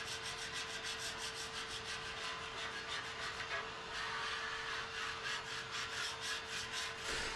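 A metal scraper rasps steadily across a rusty flat top griddle in quick, even back-and-forth strokes, loud and close with no talking, while a faint steady hum runs underneath.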